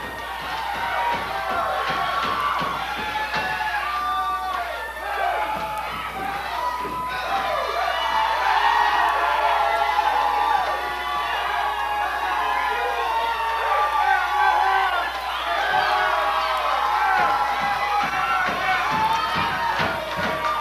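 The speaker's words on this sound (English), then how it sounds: "And the crowd going wild with big hand for the Mighty Nation and Danny Little Bear Jr." A wrestling crowd cheers and roars wildly throughout, a loud sustained wall of shouting and whooping with rising surges, as a tag team makes a big entrance and takes down opponents.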